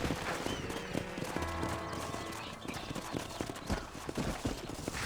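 Rhythmic horse hooves clip-clop steadily at close range in the Western game Red Dead Redemption, with an occasional whinny and no talking over them.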